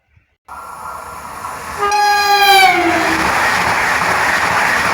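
A passenger train rushes past with a loud multi-tone horn blast that drops in pitch as it goes by, followed by a sustained roar of the passing train, heard close and loud.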